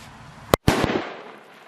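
A Dum Bum 30G firecracker explodes in one sharp, loud bang with a quick second crack, then a brief rumbling tail that fades into open-air background.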